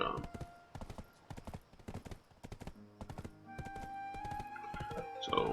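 A horse's hooves clip-clop in Black Desert Online, a quick, regular rhythm of sharp close hoofbeats running throughout, with game music or chimes rising underneath toward the end.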